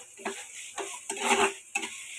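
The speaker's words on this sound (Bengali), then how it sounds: "এটা একটু আদা রসুনটা একটু ভেজে নেয়।" Ginger and garlic frying in a pan while being stirred, with soft repeated scrapes and taps of a spatula against the pan over a faint sizzle, close and fairly quiet.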